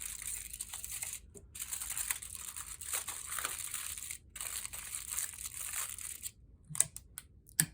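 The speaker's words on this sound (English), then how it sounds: "So sticking that foil onto the inside of your bowl." Aluminium foil crinkles and rustles steadily as it is pressed into a bowl, with close, continuous crumpling broken by a few short pauses and sharper crunches near the end.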